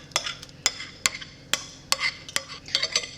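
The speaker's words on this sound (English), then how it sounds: "and we'll blend it together" Pumpkin mix is stirred into cream cheese mix with a utensil, giving sharp, irregular scraping knocks against the bowl about every half second, close and clear with no talk.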